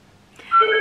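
A telephone starts ringing indoors during a relaxed Lego-building session, one short electronic ring rising abruptly after near silence and cut off at the end, with no voices over it.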